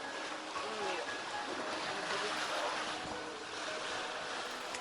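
Steady rushing sea waves and wind noise surround a sailing yacht under motor among Greek islands in rough swell, a continuous broadband wash with faint voices mixed in.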